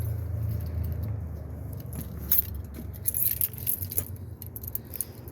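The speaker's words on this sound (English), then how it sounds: "I've got my keys. I think I got my keys." Keys jangle in a few light, close metallic bursts while someone enters a house on a winter morning, over a low background hum, with no talk.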